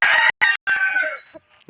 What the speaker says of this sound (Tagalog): Marami siyang manok.